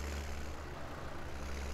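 A tractor engine idles in Farming Simulator 17, a steady, close, low rumble that holds evenly throughout with no speech over it.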